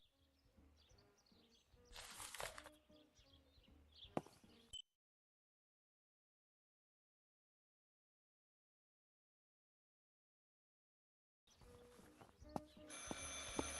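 Telephone ringing in the horror video game Martha Is Dead, heard in two bursts of in-game sound separated by a long stretch of total silence, fairly faint and mixed with other game noise.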